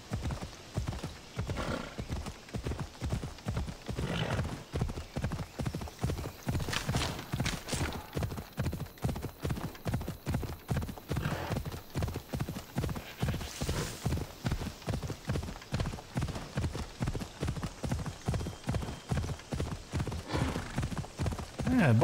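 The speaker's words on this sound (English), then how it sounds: "I have a horse." Horse hooves clip-clop steadily and rapidly through a galloping run in Assassin's Creed Odyssey, loud and continuous across the whole stretch, with a brief neigh and faint game ambience beneath.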